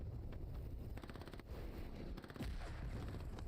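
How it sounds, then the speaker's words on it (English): Grenades bursting in the World War II shooter game Hell Let Loose, a dense barrage of loud booms and crackling gunfire blasts rolling together with little pause, close and heavy throughout. "Grenades coming down."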